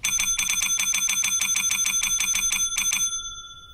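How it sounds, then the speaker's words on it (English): A loud bell in a laundry room rings with rapid, evenly spaced metallic strikes for about three seconds, then stops and leaves a short fading ring. It sounds close and piercing, with no talking. "That bell loud as shit."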